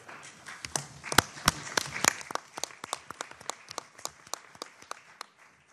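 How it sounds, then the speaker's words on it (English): Sparse applause from a conference audience at a United Nations forum, a few dozen distinct claps in an irregular pattern, moderately close and fading slightly toward the end. "The applause are for you and the panelists"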